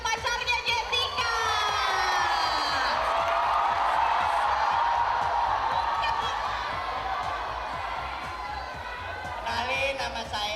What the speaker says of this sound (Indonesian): Ini tepuk tangan dong yang meriah buat pacarnya Jessica.